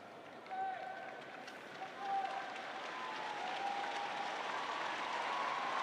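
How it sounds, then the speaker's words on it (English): Leicester City and West Ham women's football fans and players applaud an injured player off the pitch at a WSL match, a steady, distant wash of crowd clapping that rises slightly and holds, with a few faint whistles over it. "the Leicester fans and teammates and opposition fans, no doubt too, applaud her off the pitch"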